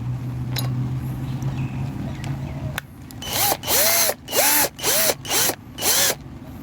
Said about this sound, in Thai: จากนั้นเราก็ จะใส่ น็อตเข้าไปนะครับ